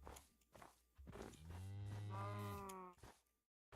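Cow mooing in the Minecraft video game, one long, loud, low moo rising and falling, with soft footsteps before and after.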